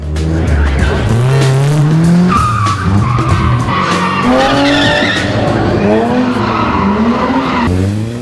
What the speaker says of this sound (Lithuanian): Riaumojantis automobilių varikliai, cypiančios padangos ir minio žiūrovų.